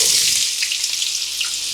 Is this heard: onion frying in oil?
yes